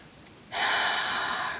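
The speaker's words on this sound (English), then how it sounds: "I'm just really feeling called to just breathe" A single deep breath taken during a meditation, a sudden airy inhale that swells and holds steady for about a second, close and clear against quiet room tone.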